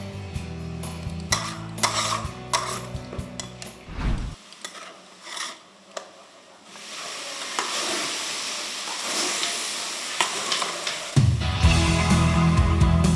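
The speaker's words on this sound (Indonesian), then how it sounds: "Semua bahan diaduk secara terus-menerus untuk menghindari bahan menjadi gosong." Scraping and stirring of a thick rujak dodol mixture of fruit and sugar cooking in a large pan, with steady hiss and intermittent clanks of the stirring tool, no talking.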